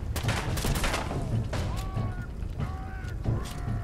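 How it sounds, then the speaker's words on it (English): Gunfire from an enemy in Fallout 4, a stretch of fast, overlapping shots that crackle and thump at mid distance through the whole moment, with a few faint whistling tones mixed in. "he's shooting me from up there"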